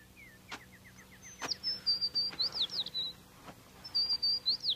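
A cartoon bird chirps in clear, high whistled trills and repeated quick tweets over a quiet background, punctuated by a few sharp clicks, with no speech.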